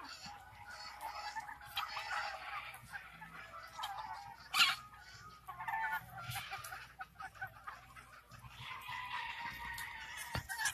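Hens in a farm pen at a veterinary supply outlet cluck and chatter steadily in a busy, mid-distance chorus, with occasional sharper calls and a faint dog in the background.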